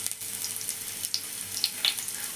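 Cashews and raisins fry in hot ghee with a steady, soft sizzle and a few sharper crackles and pops, close and fairly quiet, with no talk.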